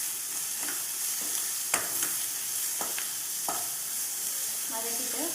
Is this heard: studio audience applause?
no